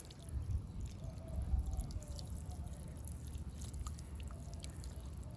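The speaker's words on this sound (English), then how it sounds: "So I'm gonna water it in." A potted plant is watered with water mixed with plant food, making a soft, close trickle and light dripping over a low background rumble, with no talking.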